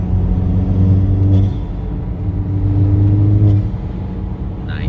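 A VW MK4 1.8T car with a stage 2 tune driving, a steady low engine drone with rising tonal pulls as it accelerates, heard from inside the car with no talk.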